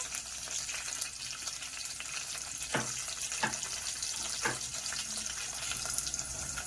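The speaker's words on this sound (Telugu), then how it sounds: "ఇది కొద్దిగా ఫ్రై అవ్వాలి" Oil fries in a pan as the tempering for sambar cooks, a steady close hiss and sizzle broken by a few soft taps and clinks.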